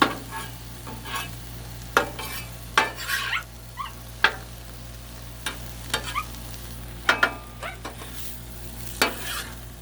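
Seafood stir fry with canned garlic sizzles on a griddle. A soft, steady frying hiss runs underneath, broken by sharp scraping and clattering strokes of a spatula against the metal at irregular moments.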